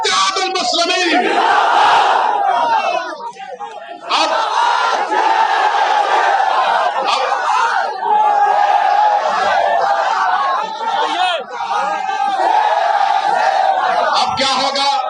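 A large crowd at a political rally in Prayagraj roars a slogan in unison, loud and sustained, with a brief dip before it surges again.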